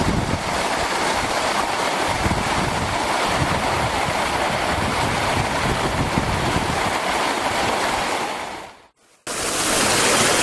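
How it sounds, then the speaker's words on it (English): Waterfalls rush on Afon Lloer in the Ogwen Valley, a loud, steady broadband roar filling the whole clip, cutting out briefly near the end before resuming. "obviously the noise of the waterfalls, I do apologise if that's sort of interfering too much"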